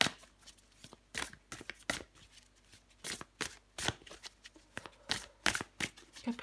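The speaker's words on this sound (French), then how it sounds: "Allez, je prends encore une carte pour vous." Tarot cards shuffled and drawn by hand, close and soft, in irregular bursts of riffling and flicking slaps separated by short quiet gaps, with no one speaking.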